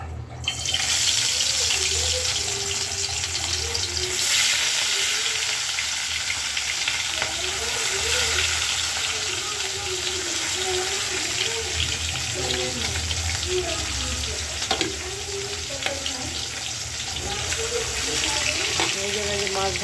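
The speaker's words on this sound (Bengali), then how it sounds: "তো আমি মাছগুলো দিয়ে দিই কড়াইতে।" Fish fry in an iron wok with a continuous, bright sizzle of hot oil that stays loud and steady for about twenty seconds, broken by occasional crackles and spatters, with a voice speaking faintly over it.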